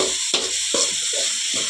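Vegetables for masala chitranna fry in a pan as a spoon scrapes through them in four quick strokes over a constant hiss of oil, up close, with no voices.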